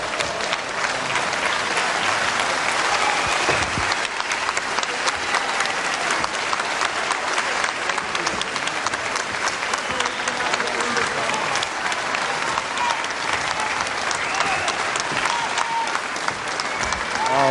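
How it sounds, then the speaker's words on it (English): A televised wrestling crowd gives steady, loud applause after a bout, dense clapping filling the whole stretch with a faint commentator's voice underneath. "ask for a special applause here"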